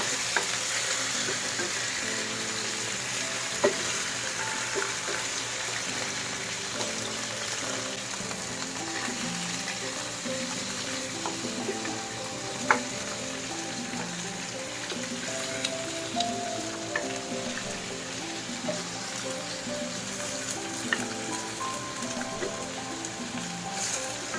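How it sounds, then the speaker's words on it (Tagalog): Pork bones sautéing with onion, garlic and black pepper in a pot, a steady soft sizzle with scattered clinks and scrapes of a spoon stirring, fairly quiet and continuous with no talking. "gisahin muna natin siya sa sibuyas, bawang, paminta"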